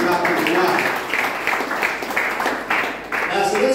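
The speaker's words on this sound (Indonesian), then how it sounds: "Beri tepuk tangan bagi Tuhan" A church congregation claps in praise during a sermon, a dense, steady round of applause mixed with voices, fairly close and loud.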